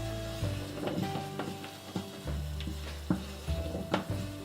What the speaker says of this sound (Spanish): Y ahora le ponemos una cucharada de pimentón